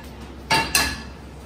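A pan is set down on a gas stove, giving two quick metallic clanks in close succession, near and fairly loud, against a quiet kitchen background.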